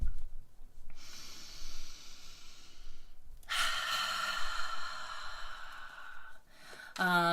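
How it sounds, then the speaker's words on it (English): Deep breaths drawn and released in a slow, quiet rhythm, with an inhale and long exhale early on, a louder, fuller breath in the middle, and a short voiced sound at the very end. "Let's all take a collective deep breath together."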